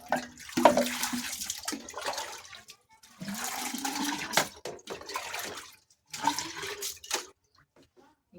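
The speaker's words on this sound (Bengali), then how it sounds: "এই জলটা দিয়েই বাঁশগুলোকে ভালো করে ধুয়ে নেবো।" Fresh water poured over and into bamboo tubes to wash them for bamboo chicken biryani, splashing and gurgling in several uneven bursts with brief pauses, close by.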